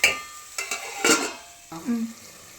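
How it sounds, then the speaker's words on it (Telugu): Onion, ginger paste and tomato frying in a pan, with spoon scrapes and stirring bursts over a steady sizzle, close and moderately loud, with a brief low voice near the end. "మంచిగా ఫ్రై అయిపోయింది."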